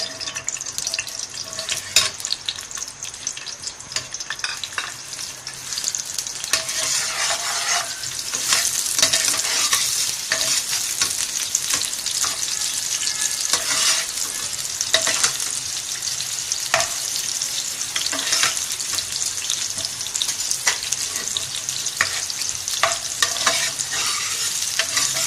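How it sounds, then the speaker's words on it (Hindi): Onions fry in ghee in a pan, giving a steady loud sizzle with scraping stir sounds throughout, close up with no talking. "अब हम इसमें प्याज डालेंगे।"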